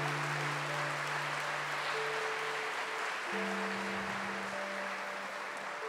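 A church congregation applauds steadily, producing a dense, continuous clapping that fills the space at a moderate level, with sustained organ or keyboard tones underneath.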